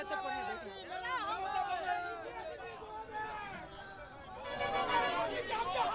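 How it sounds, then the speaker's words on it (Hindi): Noisy crowd at a political rally in Nandigram, a dense hubbub of many overlapping voices and shouts, loud and continuous throughout, swelling louder toward the end. "बेहद ज्यादा भीड़, शोर शराबा बहुत ज्यादा"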